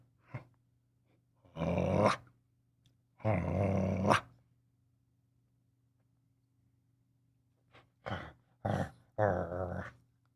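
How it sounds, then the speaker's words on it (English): A puppy growls in several short bursts of varying length, separated by stretches of near silence, fairly close and at moderate volume, with a steady low hum in the background. "It's a puppy."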